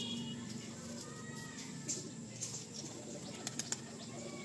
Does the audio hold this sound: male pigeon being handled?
yes